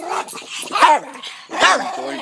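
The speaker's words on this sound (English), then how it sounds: "my rambunctious dog Scout, who is barking at the other dog, Dolly." A dog barks at another dog, with two loud, close, yelping bursts separated by a short pause.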